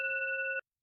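A telephone bell rings once in a steady, bright electronic tone lasting about half a second, then cuts off into silence.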